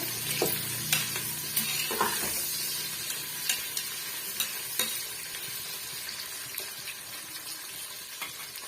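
Onions being stirred as they fry for chicken biryani, a steady close sizzle broken by scraping clinks of the spoon against the pot every second or so.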